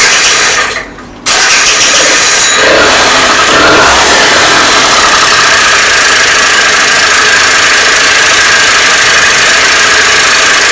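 A Suzuki Lets 2 scooter engine runs after repair of a loss of power and stalling fault, a loud steady motor drone close by after a brief gap near the start.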